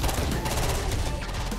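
Loud, rapid gunfire from a battle in the Terminator: Dark Fate - Defiance strategy game, with a dense rattle of shots and booming low rumble filling the short moment with no pause.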